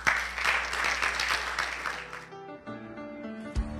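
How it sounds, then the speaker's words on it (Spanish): A church congregation standing to applaud the Lord during a Spanish-language service, a dense wash of clapping for about two seconds that breaks off into quieter room sound with a low hum and a faint thump. "Pues póngase sobre sus pies y denle un aplauso al Señor"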